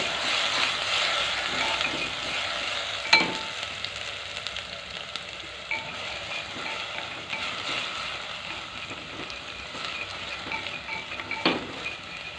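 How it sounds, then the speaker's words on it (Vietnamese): Dried shallots and garlic frying in oil in a pan, a soft continuous sizzle with occasional clinks and scrapes of a utensil stirring, fairly quiet and close. "mình sẽ cho cái hành tỏi khô còn lại vào này. Đây, mình phi cho nó thơm."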